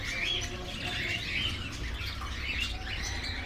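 Caged pet birds, among them violet and cobalt budgerigar pairs, chirp and tweet continuously at a Sunday bird market on Kasi Road in Quetta, a busy layered twittering over low background murmur.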